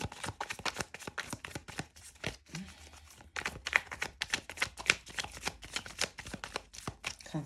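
Tarot cards riffled and shuffled by hand, a dense run of quick papery flutters and snaps with a brief pause partway, close and fairly loud with no talk.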